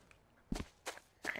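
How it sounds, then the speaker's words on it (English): Footsteps in the VR video game Rec Room sound as three soft, separate thuds spaced roughly a third of a second apart, quiet over a low background hiss. "I always hear footsteps,"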